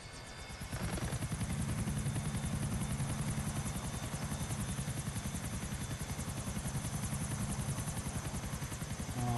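Helicopter-like rotor and engine drone from an aircraft flying in GTA IV, loud and steady throughout with a pulsing rotor chop, rising in from a quieter opening second.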